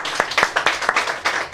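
An audience at a Romanian book launch claps briefly for the invited guests, with a short burst of distinct, fairly close hand claps in a loose rhythm.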